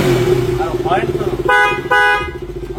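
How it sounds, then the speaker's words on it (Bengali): A new ABS-model motorcycle idles nearby under a talking voice, then its horn gives two loud, close, buzzy blasts, the second held slightly longer. "আর হর্ন শোনো"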